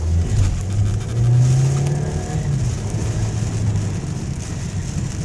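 Heavy rain from a tropical storm in Pittsburgh, Pennsylvania pours down as a continuous hiss around a car, with a nearby engine droning and revving underneath.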